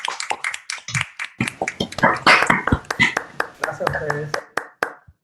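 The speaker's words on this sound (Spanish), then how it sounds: "le demos un aplauso de gratitud" Applause from participants in an online meeting after a physics colloquium talk, a run of uneven, close claps and taps with a voice speaking briefly over them.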